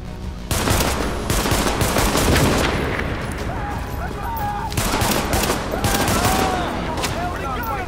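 Gunfire in The Division during a precinct siege: rapid automatic bursts and repeated loud shots in dense, overlapping volleys, with a radio-style voice and crackling effects heard between the salvos.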